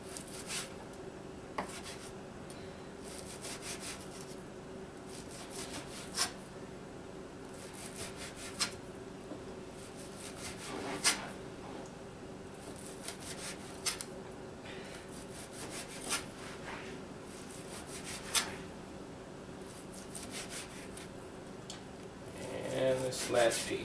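A knife draws repeatedly across meat on a board to cut thin slices, soft rhythmic rasping strokes with occasional taps, faint and close in a quiet outdoor setting, with some handling noise near the end.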